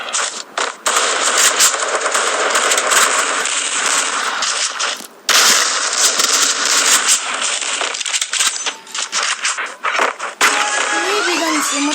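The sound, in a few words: gunfire in the video game Black Myth: Wukong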